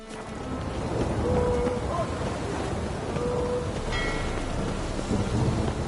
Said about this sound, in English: Storm, damn it.